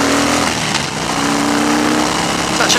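A 2015 Harley Davidson Fat Bob motorcycle drops a gear and accelerates, its engine roaring loud and close in one brief, continuous, rough burst with no talking.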